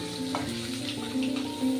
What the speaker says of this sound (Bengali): ভালো করে তেলটাকে গরম করে নেবেন, দেখবেন মাছটা খুব তাড়াতাড়ি ভাজা হয়